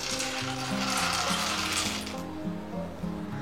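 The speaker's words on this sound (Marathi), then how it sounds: "आता सर्वात आधी आपण शेंगदाणे तळून घेणार आहोत" Shelled peanuts frying in hot oil in a home kitchen pan over a medium flame, a steady, close, bright sizzle with a low bubbling undertone, constant throughout with no talking.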